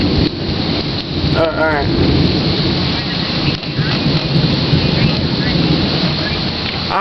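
Heavy rain pours during a thunderstorm with a tornado warning in Chicago, a loud continuous roar of rainfall with rumbling thunder, while a person speaks briefly nearby.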